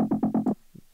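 A synthesized bass from a slightly tweaked Camel Crusher Bass Maker preset plays five quick, punchy low pulses in a row, then one softer note. The sound is dry and close, with nothing else heard.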